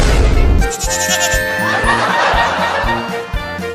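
A cartoon baby goat bleats in a series of quavering, nasal cries, loud and close, repeating in a wavering rhythm without other voices.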